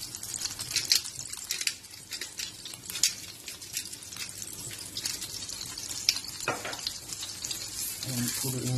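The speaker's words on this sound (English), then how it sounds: "I've just turned the heat up on this one here so you can see the oil starting to bubble up" Paua patties fry in bubbling hot oil in a pan, giving a steady close sizzle and crackle with occasional louder spits throughout.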